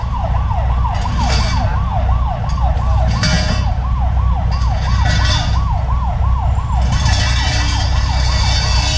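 A wailing emergency vehicle siren on a Manila street, probably an MMDA traffic vehicle, rising and falling steadily and loudly throughout over constant engine and road rumble.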